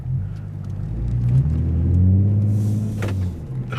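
A Ford Mustang V8 fitted with a new BBK 73mm throttle body revs up, its deep rumbling engine note climbing and holding steady, loud and close, with no talking.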